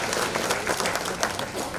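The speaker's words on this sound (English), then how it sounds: "Let's give a round of applause to Annette." Audience applause at a University of Guyana alumni and friends gala in Washington, a steady wash of many hands clapping close by, with no talk over it.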